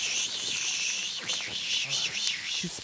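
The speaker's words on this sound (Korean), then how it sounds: "근데 매미 소리 들어봐봐" Cicadas buzz in a steady, loud summer drone through an outdoor setting, with a continuous shrill trill and slight swells, while people talk faintly and move about nearby.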